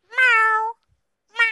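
Two clear, loud cat meows, a long drawn-out call and then the start of a second after a brief pause, close up with no talking.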